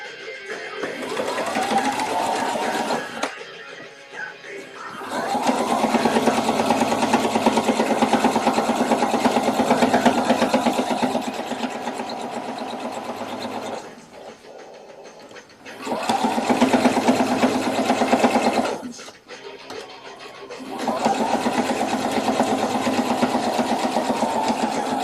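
Sewing machine running in three long bursts of steady stitching along a double-stitched seam on a Victorian evening dress, separated by short quiet pauses; close and fairly loud, with no talk.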